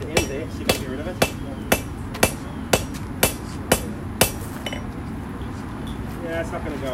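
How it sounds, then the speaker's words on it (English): A hammer strikes a steel knife blade during forging, about ten sharp, evenly spaced ringing blows close by. Afterwards quieter shop noise continues, and a voice speaks faintly in the background. "So I'm just going to hammer that little bit at the end there,"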